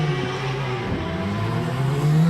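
A superbike starting at the Isle of Man TT race, its engine droning loud and continuous with a shifting low pitch as it pulls away, steady throughout.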